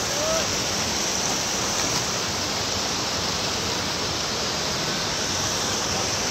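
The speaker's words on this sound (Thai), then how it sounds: "ตอนนี้นายอยู่ที่น้ำตกนะครับทุกคน" A waterfall roars loudly and steadily, with a dense, unbroken rush of water filling the whole clip.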